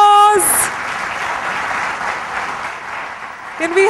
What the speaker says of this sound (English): Let the claps keep on roaring. Come on, a huge round of applause.